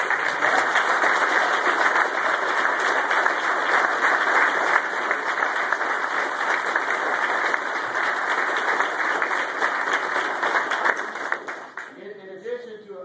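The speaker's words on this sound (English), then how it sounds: "So let's give another big round of applause." Audience applause at a Wisconsin bill signing for the Personal Protection Act, dense and sustained for about eleven seconds before tapering off, with a voice beginning as it fades.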